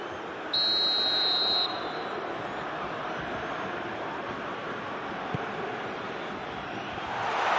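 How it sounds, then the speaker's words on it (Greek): A referee's whistle blows one sustained, shrill blast of just over a second, signalling a foul during a regional cup final football match in Serres, Greece, over a steady wash of crowd and field noise. "Θα σφυρίξει εδώ. Καταλογίζει φάουλ ο ρέφερι."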